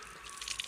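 Cold water splashing and dripping over a hand at a snowy winter campsite at Lightning Lake in Manning Park, a short burst of close, bright spattering with a few louder splashes near the end.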